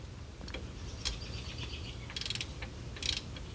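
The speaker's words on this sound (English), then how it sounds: "Now, I also have a ratchet, half-inch ratchet," Half-inch ratchet turning during a wheel bearing hub assembly replacement on a 2003 Chevy Trailblazer, giving soft, quick clicking bursts over a steady low background hum, faint and close.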